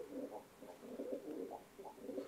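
Soft, low cooing of a female Şebap pigeon repeats in gentle rolling phrases, fairly close and quiet, with no talking.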